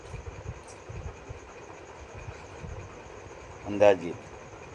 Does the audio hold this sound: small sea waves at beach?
no